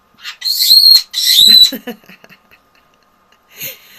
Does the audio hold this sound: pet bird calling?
yes